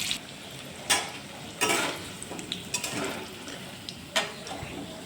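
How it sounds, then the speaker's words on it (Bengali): Potatoes fry with whole garlic in a pan for a mutton curry, a low sizzle broken by several sharp stirring and scraping clatters of a utensil against the pan, close and alone. "আলুটা ভেজে নেব একটা রসুনও দিলাম গোটা রসুন"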